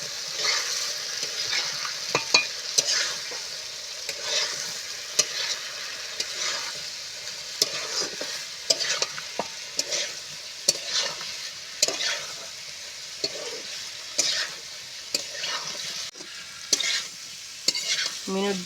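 Raw banana and a large fresh pond-fish head are sautéed in a pan, a steady sizzle broken by repeated scraping stirs and clinks of a spatula, irregular and close, with no voices.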